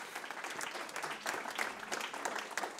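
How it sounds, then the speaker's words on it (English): An audience at an urban storytelling event applauds a speaker, a soft, fairly distant spread of many hands clapping at an even pace with no voices on top. "Can we give Jan a super applause?"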